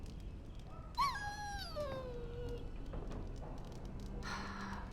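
A dog in the Dragon Age Origins video game gives one long, drawn-out whine that slides downward in pitch, followed by faint soft whimpers over quiet game ambience.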